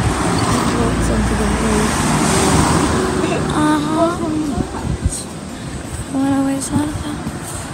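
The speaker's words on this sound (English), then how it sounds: "Wow, there's a car coming." A car on a roadway approaches and passes close by as a steady rushing hum that swells and fades, with voices talking intermittently over it.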